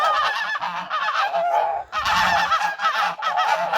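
A flock of humpbacked geese in a farmyard honks loudly and close by, with harsh, overlapping calls that come in quick repeated bursts and barely pause, with no voices.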